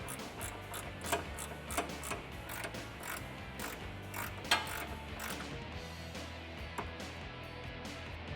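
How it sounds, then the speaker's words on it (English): A long 15mm ratcheting wrench works a sway bar end link bolt loose on a 2005-2014 Ford Mustang, giving steady rapid ratchet-pawl clicking with a few louder clunks, close up with no talk. "I'm gonna use a long 15mm ratcheting wrench"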